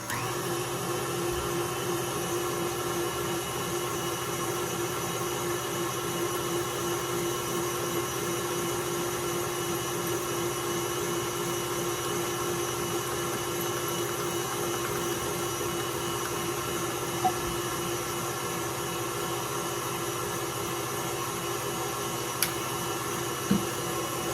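An electric mixer whirs steadily through cheesecake batter after four eggs go in, a continuous even motor drone at moderate distance, unbroken for the whole stretch with only a couple of faint clicks and no speech.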